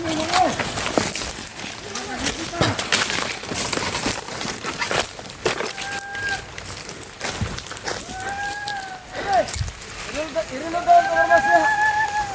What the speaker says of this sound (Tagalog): Loko na, umuulan na naman.